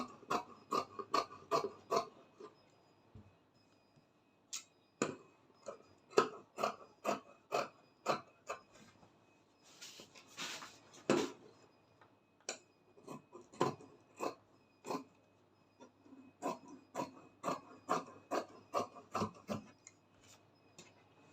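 Scissors cutting fabric along a curve toward the hem line of a cowl kaftan, heard as crisp repeated snips in quick bursts with short pauses, close and fairly quiet, with no talking.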